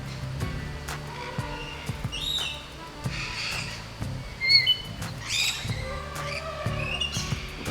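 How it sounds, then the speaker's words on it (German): Jungle ambience fills the air with scattered bird squawks, chirps and whistles over a busy rustling background, layered calls popping up near and far throughout. "also zum Beispiel Urwald."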